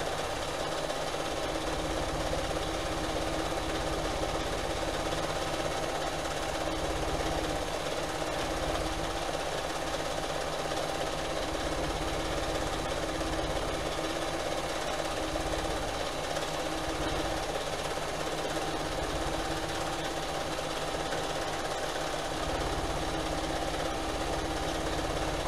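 A sewing machine stitching through a quilt, running as a steady, close mechanical drone and rattle that continues without a break for the whole stretch, with no talking.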